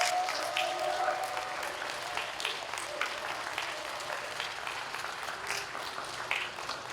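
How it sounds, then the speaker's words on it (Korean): Applause from the audience at a talk concert for visually impaired people welcomes a guest singer, a steady, even wash of many hands clapping that continues throughout at moderate volume. "여러분 큰 박수로 환영해 주시기 바랍니다"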